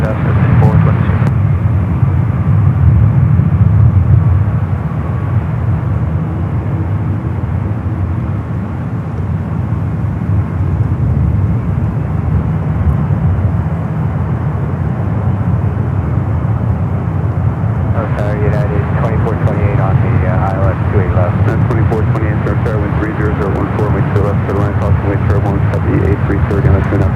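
An airliner spools up and roars down the runway on takeoff at San Francisco airport, a loud, continuous jet rumble building in intensity, with air traffic radio chatter over it.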